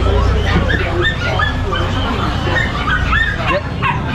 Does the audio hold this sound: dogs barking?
yes